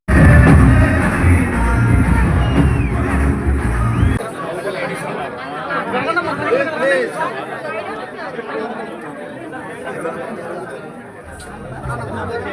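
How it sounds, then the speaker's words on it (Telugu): Large crowd gathered to see Telugu film actress and TV anchor Anasuya, a dense hubbub of chatter and voices, loud and close at first, then a busier, thinner babble continuing throughout. "అనసూయను చూసేందుకు భారీగా తరలివచ్చిన జనం"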